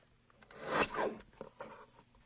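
Scissors cut out a paper piece from a Paper Pumpkin craft kit, giving a short, close rasping swish that swells and fades, followed by a few small snips.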